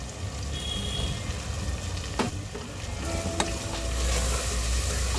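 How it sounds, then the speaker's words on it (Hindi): Red chili powder, turmeric and pav bhaji masala roast in a hot pan, giving a loud, steady close sizzle with scraping stirs and an occasional clink throughout. "इसको अच्छी तरह से हम भून लेंगे।"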